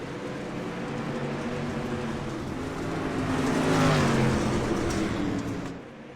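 A pack of race cars roars off the line at the start of a dirt track race at Lanier, engines revving and rising together in a sustained, loud drone that swells around the middle and then eases slightly.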